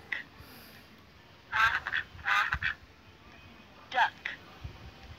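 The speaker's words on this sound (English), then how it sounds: "Duck." A duck quacks in a children's bird-learning game on Android, several short bright calls in two bursts, clear and close against a quiet background with no talk.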